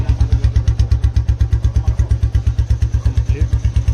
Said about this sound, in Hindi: एक बार इस वाली बाइक को करते हैं स्टार्ट, और इसका अब इनिशियल एग्जॉस्ट एंड उसके बाद कंप्लीट फुल थ्रॉटल सुनो